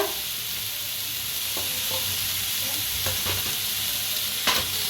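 Onion, tomato, garlic, ginger, green chilies and cashews fry together in a pan with a constant dense sizzle, and a few soft stirring scrapes rise above it, with no voices.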